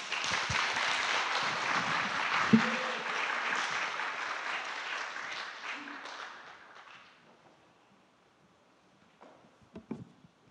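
Applause from a church Bible-study audience welcoming a lecturer to the front, a broad steady wash of clapping that fades out over several seconds into near silence, followed by a few faint scattered sounds.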